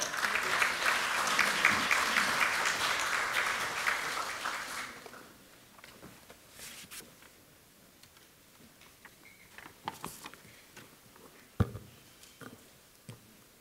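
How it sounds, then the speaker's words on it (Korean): An audience applauds the unification minister at a 6.15 North–South Joint Declaration anniversary event, the clapping dense and loud at first, then stopping abruptly after about five seconds, leaving a quiet room with scattered ticks and knocks. "박수로 맞아주십시오."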